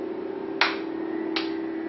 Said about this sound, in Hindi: सेकंड चल रही है, टक टक, उसके साथ ताली दीजिए, टक टक टक टक टक।